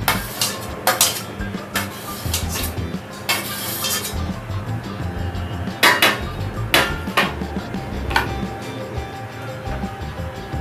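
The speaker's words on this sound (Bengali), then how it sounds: "সমস্ত আলুগুলো আমি অ্যাড করে দিচ্ছি।" Potatoes are tipped into a cooking pan of spiced prawn curry base, with repeated metallic clinks and clatters of a spoon against the pan over a continuous background hiss.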